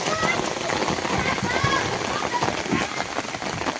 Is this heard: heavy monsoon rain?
yes